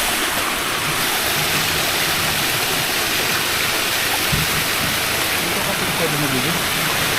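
Cold water flows steadily at an outdoor bathing spot in Palawan, a loud continuous rushing wash close by, with a brief voice faintly under it.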